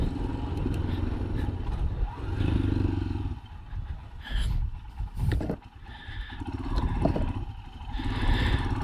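A motorcycle pulls away and rides off, its engine rumbling and revving through gear changes, fairly loud and close, with wind and road clatter mixed in.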